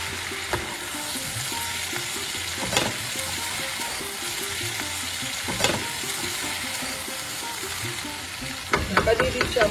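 Coarsely grated ginger stirred in a frying pan with mustard oil while cooking Bengali chhyachra vegetable mishmash: a steady sizzle and frying hiss runs throughout, with a few louder scraping stirs and a clatter of utensils near the end.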